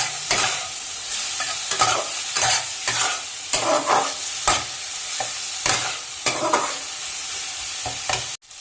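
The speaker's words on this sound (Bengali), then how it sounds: "হলুদ গুঁড়ো, লঙ্কা গুঁড়ো, জিরে গুঁড়ো দিয়ে দিচ্ছি। এবার ভালো করে কষিয়ে নেব।" Turmeric, chili and cumin powder frying in a pan for egg curry, with a steady sizzle broken by repeated scraping stirs of a spoon, close and moderately loud.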